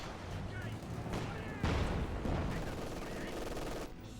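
StuG III assault gun firing in Company of Heroes 2, heavy booming cannon blasts amid rumbling battle noise and scattered gunfire, dense and continuous.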